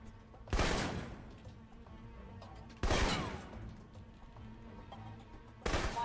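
Assault rifle fire in the Alpha Protocol video game: three separate loud bursts of gunfire, each with a sharp attack and a short decaying tail, spaced a few seconds apart over a low background ambience.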